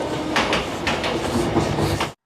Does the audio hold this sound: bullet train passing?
yes